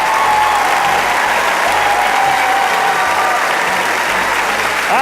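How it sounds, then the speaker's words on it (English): Steady, dense audience applause for a school chamber choir at a choir competition semi-final, loud and continuous throughout with no talk over it. "Round of applause for TGS Motet from Tunbridge"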